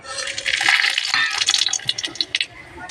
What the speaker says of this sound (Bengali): এই তেলটার মধ্যে এবারে দিয়ে দেবো শুকনো লঙ্কা পাঁচফোড়ন আর আলাদাভাবে একটু কালো জিরে